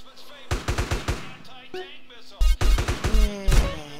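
SMG fire in GTA San Andreas comes as two runs of rapid close-range shots, a shorter, lighter burst followed after a pause by a louder, heavier one, with some faint tonal background sound between them.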